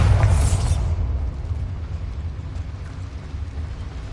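A Bombarda explosion spell cast in a video game, going off in a loud, close blast with a bright crack at the start, then a heavy rumbling debris tail that slowly fades, with no talking.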